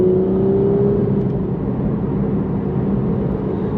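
A 690bhp Aston Martin Vantage V12 heard from inside the cabin as a loud, steady, muffled engine drone, with a faint tonal whine fading out in the first second.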